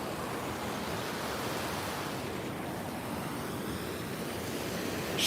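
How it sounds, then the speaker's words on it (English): A river flows past houses in Takayama, Japan, making a steady rushing wash of water heard close and fairly loud without a break. "So it turns out you can come right down to the river."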